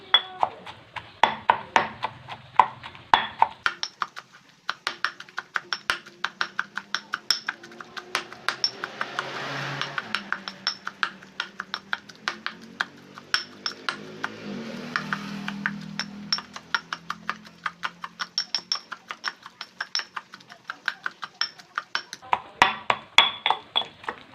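A stone mortar and pestle pound chili paste mixed with large eggplant in sharp, rapid, fairly close knocks, with quieter softer stretches of mashing in the middle before the brisk pounding resumes.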